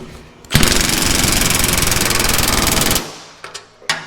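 A Milwaukee power tool with a 17 mm socket tightens nuts on a motorcycle lift, a loud sustained buzzing, rattling drive burst of about two and a half seconds, followed by a few short clicks and knocks.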